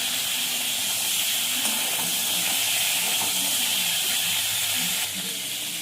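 Cauliflower florets coated in cumin, salt and turmeric fry in hot mustard oil in a pan, producing a loud, steady sizzling hiss that runs unbroken throughout, with faint stirring underneath.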